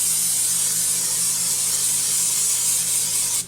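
Cooking oil sprayed into a baking dish in one long, continuous close hiss that cuts off sharply at the end, with no talking.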